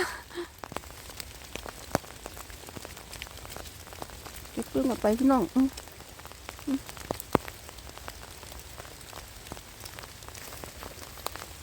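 Steady rain patters through a German forest in winter, a continuous close hiss with scattered sharper drips on leaves and ground, while someone speaks briefly partway through.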